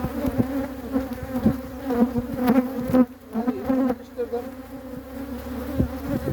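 A dense, close swarm of honey bees buzzes continuously during a transfer from an old hive into a new one, the drone rising and dipping with occasional handling knocks.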